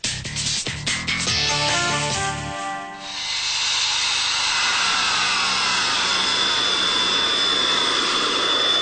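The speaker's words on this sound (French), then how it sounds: "Un avion de chasse qui traverse une route nationale." A fighter jet crosses a national road in Switzerland, its engine swelling into a loud, roaring, hissing rush that holds steady close by after a brief stretch of other sound at the start.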